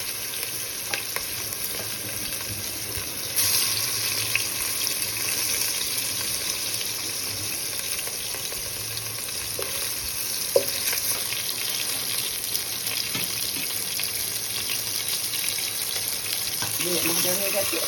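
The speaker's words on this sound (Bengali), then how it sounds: "এবার আমি মাছ ভাজা শুরু করছি।" Bhetki fish frying in hot oil in a wok, a steady, dense sizzle that continues close and unbroken throughout, with a few faint clinks and occasional soft voices in the background.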